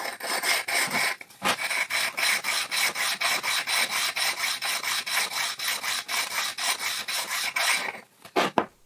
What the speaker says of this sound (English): I'm honing down the faces of this triangular stone so I can use it to remove fine burrs and dings